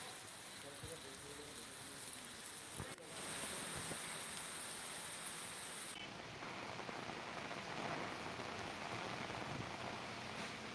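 A storm with heavy rain and strong wind in lower Assam makes a steady, fairly faint wash of rushing noise that continues without a break, with a slight shift in texture partway through.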